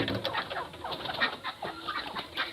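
Desi chickens let out of their coop after being given feed and water cluck steadily as the flock files out, several birds calling close by at once with no talk.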